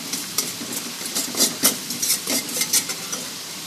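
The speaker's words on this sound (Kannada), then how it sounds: "ಈಗ ಒಗ್ಗರಣೆನ ಕಲಿಸ್ತಾ ಇದ್ದೀನಿ," A spoon stirs tempering with turmeric in a pan for hotel-style potato upma, giving soft scraping strokes in an uneven rhythm over a faint sizzle, close and fairly quiet.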